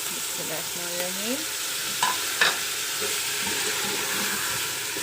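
Chicken and chopped tomatoes fry in a pan, a soft steady sizzle with a few scraping stirs and light utensil clinks, close and moderately quiet with no voices.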